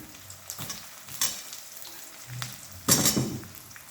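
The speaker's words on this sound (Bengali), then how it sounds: "আলুটা এই পেঁয়াজের সাথে ভেজে নিচ্ছি" Potatoes fry with onions in a pan for chicken curry, a quiet sizzle broken by several louder bursts of stirring and spattering, close by with no speech.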